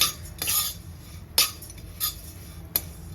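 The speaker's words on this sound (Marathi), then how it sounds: "पोहे भाजून घेते आधी चांगले खमंग भाजायचे पोहे वगैरे थोडंसं तूप टाकून मस्त भाजून घ्यायचे" Poha being roasted in a little ghee in a pan for Govind laddoos, with a metal spoon scraping and clinking against the pan in a few sharp strokes over a quiet background.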